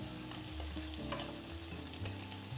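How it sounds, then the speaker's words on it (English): Prawns searing in a pan while linguine aglio e olio is prepared, giving a faint, steady sizzle over a soft tonal background with no voices. "So the prawns, it's searing"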